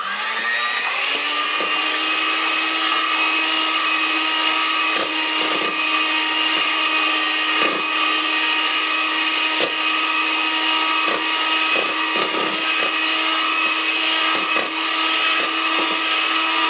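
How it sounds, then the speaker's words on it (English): An electric mixer whirs steadily at high speed while beating egg white until stiff, a constant loud motor whine with faint periodic clicks of the beaters against the bowl. "we're going to beat it till it's stiff"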